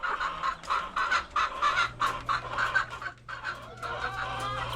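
Chickens cluck close by in a busy, overlapping chatter, with short, choppy calls repeating over a faint low hum.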